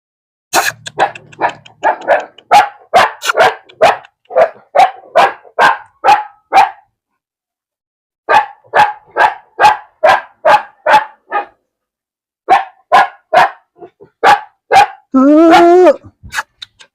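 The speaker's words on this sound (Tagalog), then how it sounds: "May bagong tuta." A new puppy barks in a long series of sharp, evenly spaced yaps, close and loud, pausing twice before resuming, ending with a brief whine.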